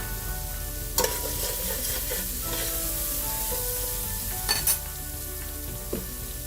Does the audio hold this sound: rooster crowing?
no